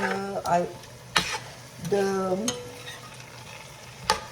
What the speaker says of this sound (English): on a very, very high flame, as you can see, I will start stir frying the chicken